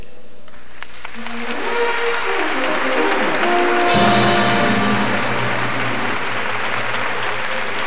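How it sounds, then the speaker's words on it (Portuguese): Loud sustained applause from a studio audience at a televised gala show celebrating Brazilian television, a dense wash of clapping that swells midway and carries on without a break. "O nosso aplauso é para você."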